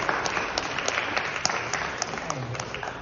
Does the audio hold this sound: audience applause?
yes